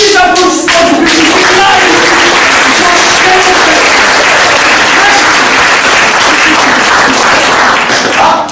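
Audience applause bursts in loudly and holds as dense, sustained clapping from a large crowd, staying close and steady for several seconds before easing at the very end.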